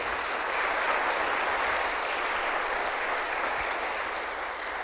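A church congregation claps together in praise during a Spanish-language service, with dense, sustained applause that stays loud and even from start to finish.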